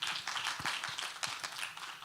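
Audience at an international battery materials symposium breaks into steady clapping to welcome a speaker to the stage, a short, moderately quiet burst of many hands.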